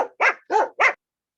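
A small dog barks three times in quick, evenly spaced succession, sharp and close, followed by silence.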